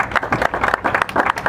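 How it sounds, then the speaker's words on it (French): Applause at a press conference, a short burst of uneven clapping from a small group in a room, individual claps audible, close and moderately loud. "Sous vos applaudissements, s'il vous plaît."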